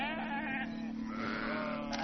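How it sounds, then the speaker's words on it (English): Sheep and lambs bleating from a roadside herd in open green countryside, several overlapping calls sounding fairly close over steady background noise. "There's a whole herd of lambs."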